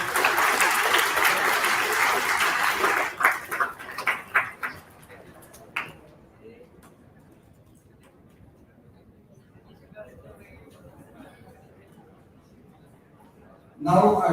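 Audience applause at a Salesforce job-ready launch event in 2023: a dense burst of clapping for about three seconds, tapering into scattered claps and fading into room quiet, with a voice speaking briefly at the very end.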